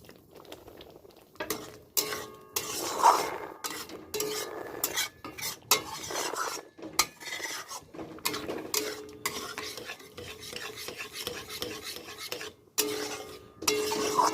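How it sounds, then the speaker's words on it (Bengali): Sugar is stirred into papaya payesh in a pot with a metal spoon, a close, quiet run of repeated scraping and clinking strokes against the pot with a faint simmer underneath. "আবারও খুব ভালো করে চিনিটা এর মধ্যে মিশিয়ে নিতে হবে।"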